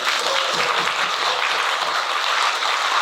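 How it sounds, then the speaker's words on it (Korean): A church congregation claps together at a sermon, giving dense, steady applause that fills the room for the whole stretch without a break. "우리 박수 한번 할까요?"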